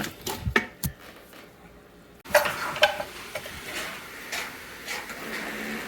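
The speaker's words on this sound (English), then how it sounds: "just saute it for like 10-15 minutes like you normally do, just in here" Vegetables sauteing in an Instant Pot for butternut squash soup, a soft steady sizzle with a few clinks and stirring scrapes of a utensil against the pot.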